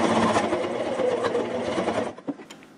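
A sewing machine stitches a rank insignia and nametape onto a patrol cap, running steadily and close for about two seconds before stopping, followed by a few small handling clicks.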